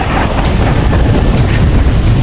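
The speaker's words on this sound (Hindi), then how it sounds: "ये बहुत तेज हवा है।" Strong wind beside a mountain waterfall in Himachal Pradesh roars in a loud, steady rush, buffeting the microphone without pause, with no voices.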